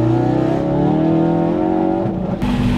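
A Ferrari launching hard and accelerating, its engine note climbing steadily in a loud, continuous rev close by, then briefly breaking off near the end as the revs change.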